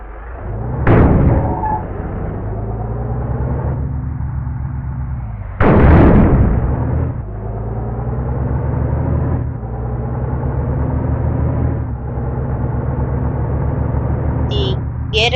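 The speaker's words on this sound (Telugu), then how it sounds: "ఈ ఇంజన్ సౌండ్ అయితే కొంచెం పెద్దగా అయితే వస్తుంది" A Volvo 9600 bus engine in a video game mod produces a loud, steady diesel drone with a low, layered hum. Two sharp bursts of rising revs break up the drone, and there is no talk.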